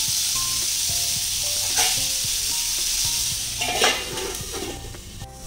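Peas cook in a covered pan on a very low flame, giving a steady, fairly loud sizzle with occasional light metallic clinks and a louder clatter near the end, with no talk.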